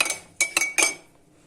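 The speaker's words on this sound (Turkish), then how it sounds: "2 yemek kaşığı yoğurdumuzu bardağın içerisinde bu şekilde çırpıyoruz arkadaşlar ve mayalayacağız" A spoon clinks against a glass while whisking two tablespoons of yogurt inside it, three or four quick bright taps close by, then fading.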